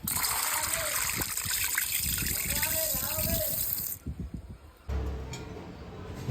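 Water pouring and splashing over chana dal set to soak: a continuous trickling gush under a woman's speech, then a brief pause before the water sound resumes more quietly.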